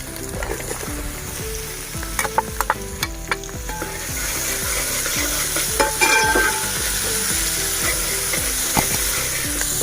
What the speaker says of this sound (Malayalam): അതിനകത്തേക്ക് നമുക്ക് സവോള ഇടാം.